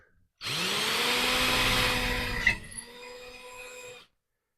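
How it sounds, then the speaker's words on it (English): A power drill with a 1/4 inch bit drills out a part of a used scroll saw under repair. The motor whines loudly and steadily, bites with a brief jolt, then runs lighter for a moment before stopping. "I've got a 1/4 inch bit right here, and I'm going to very carefully drill this out"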